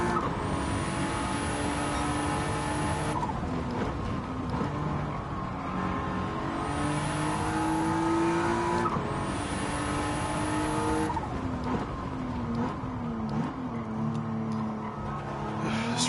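Car engine revs and tire squeal from a race in the Gran Turismo 7 video game, played in VR with a wheel; a loud continuous engine drone rises and falls with gear changes, with high tire screeches through corners and no talking.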